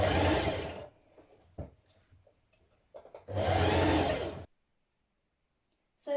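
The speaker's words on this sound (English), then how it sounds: "Stitch your sleeve in place." A sewing machine stitches a sleeve into a blouse in two loud, steady bursts, about a second and then three seconds long, separated by quieter handling noises, followed by silence.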